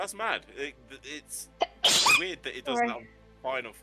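One sudden, squeaky sneeze near the middle, set among casual conversation between several people talking close to the microphone.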